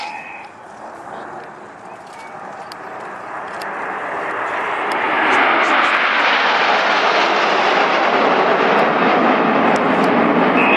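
Red Arrows jets flying in formation at a Duxford Battle of Britain air show, a broad jet roar that swells steadily louder as the formation approaches, with a commentator talking over it through a PA.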